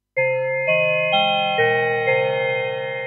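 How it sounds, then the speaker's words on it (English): A bell-like tone from a Super 6 synthesizer, its VCA amplitude modulated by LFO1, plays five successive notes, each with a bright attack and gently pulsing decay, loud and alone. "if you were to modulate the amplitude of the VCA with LFO1, you get a similar kind of bell like sound"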